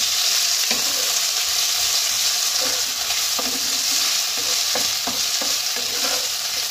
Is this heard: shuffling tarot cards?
no